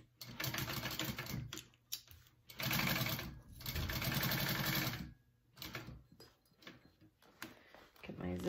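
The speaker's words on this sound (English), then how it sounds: "you're gonna sew that on at a 1/4 inch" A home sewing machine runs a quarter-inch seam on a layered fabric sandwich for a zippered bag, in several loud bursts of rapid stitching separated by short pauses.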